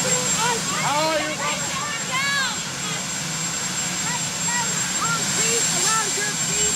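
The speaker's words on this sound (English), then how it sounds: "it must have been the helicopter." A helicopter passes overhead during a 1987 presidential photo opportunity, its steady engine and rotor rumble running through the whole clip beneath several people talking and calling out.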